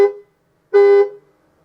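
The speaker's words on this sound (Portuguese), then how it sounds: "É a buzina. O que vocês acham?" Two short horn honks from a Ford Maverick pickup truck, the second longer and louder, separated by a brief pause, sounding close by.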